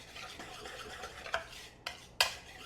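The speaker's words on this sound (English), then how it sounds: "then we whisk this" A small whisk beats apple oatmeal cookie batter in a bowl, giving quiet scraping swirls with a few sharp clinks of metal against the bowl, close up and with no talking.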